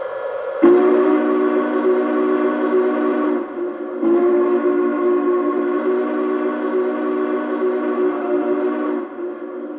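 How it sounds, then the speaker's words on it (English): A Union Pacific 844 model steam locomotive sounds its default whistle, a loud chime-like tone held about three seconds, a brief gap, then a second long blast of around five seconds, heard close with no talk. "So this is the default whistle."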